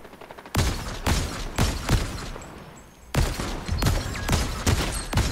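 Rapid bursts of thermal DMR gunfire in Fortnite, several close sharp shots in two clusters separated by a brief lull, loud and punchy with no voices over them.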